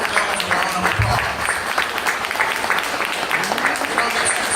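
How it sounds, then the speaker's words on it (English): A crowd at a graduation party claps in a steady, fairly loud round of applause, with scattered voices mixed into the clapping. "Let's just give them all those guys a round of applause."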